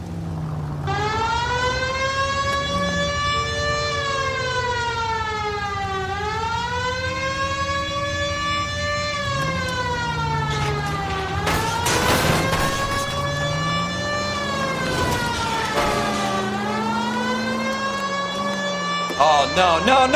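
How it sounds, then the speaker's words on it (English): A loud police car siren in the video game L.A. Noire rises and falls continuously, sweeping up and down in long cycles, close and steady throughout with some background noise. "This would be a good time for the siren."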